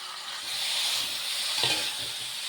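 Chicken fries in a pan with tomato and coconut milk, making a dense, steady sizzle with a faint hiss. A couple of soft stirring knocks sound near the end, close and moderately loud, with no talking.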